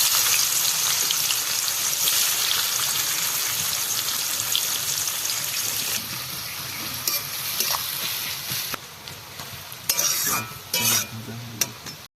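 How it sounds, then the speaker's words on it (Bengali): Steady, loud sizzling of chopped onions frying in hot oil, close by, with occasional stirring clatters near the end and no talking. "এবারে গরম তেলের মধ্যেই কুচিয়ে রাখা পেঁয়াজগুলোকে দিয়ে দেব"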